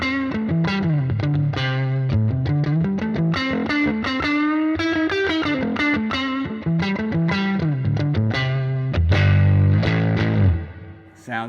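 Electric guitar on the neck pickup through a Fender '68 Custom Vibro Champ Reverb amp pushed toward overdrive, with raspy distortion and reverb. A continuous run of played notes and chords ends in a louder low strum that rings out.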